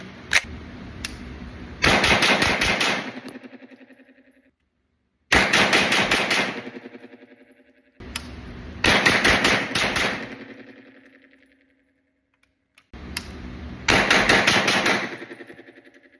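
A CZ Scorpion Evo 3 fires during shooting drills in four loud, close volleys of rapid shots, each burst separated by a second or two of silence, with a few single shots before the first.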